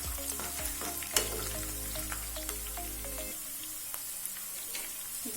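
Green chillies frying and sizzling in hot oil in a pan with curry leaves, a steady close crackle with small pops and a brief stir clatter, no voices.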